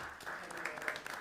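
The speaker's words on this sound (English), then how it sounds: "Stand for a round of applause." Brief round of applause at a city council meeting honoring a new fire chief, a soft steady patter of clapping hands at moderate distance, fairly faint, with no talk over it.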